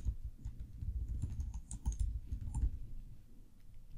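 Typing on a computer keyboard while entering an event name in scheduling software, a quiet, close run of irregular key clicks and taps with short pauses between bursts.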